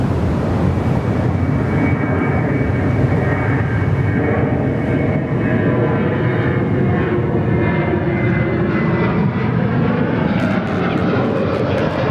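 A Boeing 737 roars down the runway on takeoff at Perth Airport, a loud, steady jet engine rumble filling the whole stretch without letup.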